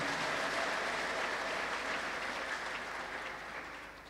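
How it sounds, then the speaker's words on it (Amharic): A church congregation applauds in praise during a prophet's service, a steady dense wash of clapping that holds for several seconds and slowly fades toward the end. "እስቲ እንደገና አጨብጭቡ ለእግዚአብሔር ክብር"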